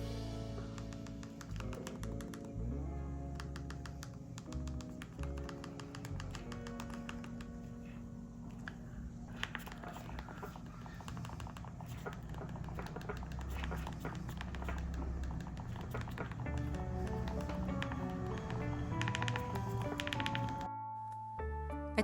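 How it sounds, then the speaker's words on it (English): Keypad presses on a Kyocera KYF42C and Mive Style Folder flip phone, a quick run of small clicks and taps up close, with a faint steady hum beneath them. "In case you're also wondering what typing sounds like on these phones,"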